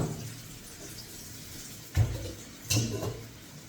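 Sea moss is rinsed under running water in a Ghanaian kitchen, a soft steady trickle with two louder splashy surges, close and without talk.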